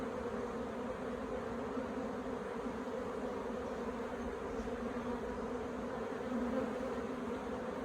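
Agitated honeybees in a stressed, queenless hive make a dense, steady buzzing hum close by, unbroken and even throughout.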